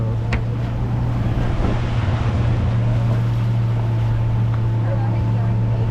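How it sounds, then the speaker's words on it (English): A steady low engine drone of a boat arriving at Norfolk Island, Australia, runs throughout, with wind and water noise around it and faint voices in the background. "this is the other boat"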